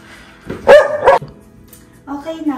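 A dog barks twice in quick succession indoors inside a house, loud and close, followed by a brief whine or yip near the end.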